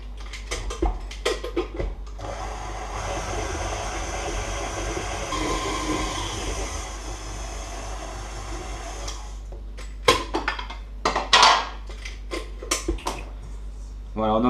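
A stand mixer rubs flour and butter together in its bowl for lemon bredele dough, making a steady whirring drone of several seconds, with a voice talking before and after it.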